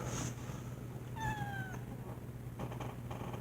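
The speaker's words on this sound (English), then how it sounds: "Just a little baby meow." A big domestic cat gives one short, high, thin meow midway through, faint against a quiet room hum.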